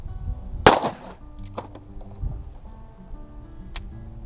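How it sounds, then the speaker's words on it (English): A single sharp, loud report from a Great Western II Buntline revolver fired outdoors at a range, followed by a brief echoing tail, a couple of smaller knocks and a light click, with no talking. "let's take a shot here at this range"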